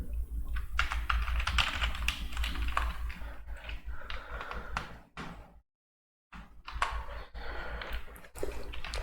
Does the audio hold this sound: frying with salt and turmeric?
no